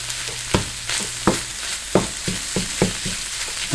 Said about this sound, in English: So I'm just scrambling this, letting it dry out.